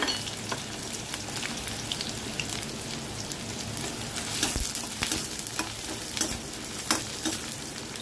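Onion frying in hot oil in a wok in a home kitchen, a steady close sizzle with occasional pops and stirring scrapes, no voices.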